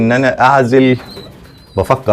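Meat-breed pigeons coo in a loft at close range, with a few throaty, resonant coos, then a short lull and more coos.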